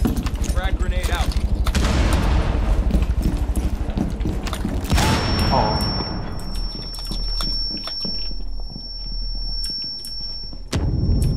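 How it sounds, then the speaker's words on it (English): Frag grenade blast and gunfire in a tactical shooter game: dense rapid shots give way to a loud explosion, then scattered shots, thumps and a steady high electronic tone, under busy game audio. "Frag grenade out."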